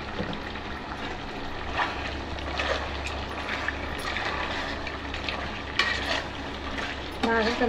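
Chilli powder being stirred into frying chicken curry: steady close sizzling with repeated scraping spoon strokes around the pan and a low background hum, no talking.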